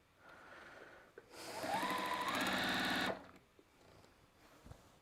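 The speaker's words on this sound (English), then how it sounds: "And now I'm not sewing at all because the machine came unthreaded." Sewing machine stitching through quilt fabric, a loud steady whirring run of about two seconds rising in speed, then stopping, with quiet room noise and small clicks around it.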